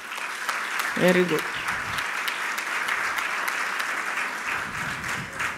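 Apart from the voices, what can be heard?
congregation clapping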